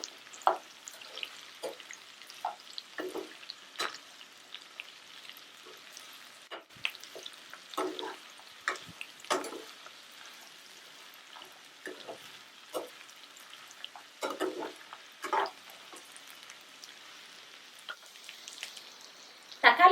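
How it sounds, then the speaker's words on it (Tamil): Onions sautéing in oil in a pan over high flame, soft crackling spatters and repeated spoon scrapes and stirs, close and fairly quiet with no talk. "நல்லா கேரி விட்டு எண்ணெயிலே வதக்கிங்க வெங்காயத்தை."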